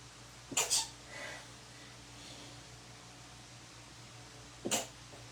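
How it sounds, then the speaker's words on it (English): A close, sharp sneeze bursts out near the start, followed a few seconds later by a second, shorter sneeze, with a low steady hum of background noise between them. "So I gotta sneeze"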